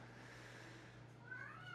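A pet cat meows on its own, a drawn-out, slightly rising cry that swells near the end, faint against a low steady hum in a quiet room.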